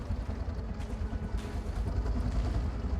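An engine-like machine runs in the All Will Fall video game, a steady low rumble holding at an even, moderately loud level throughout with no breaks.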